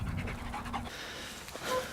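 A bloodhound pants rapidly and close by on a countryside hike in the Cotswolds, a steady rhythm of quick breaths with no talking.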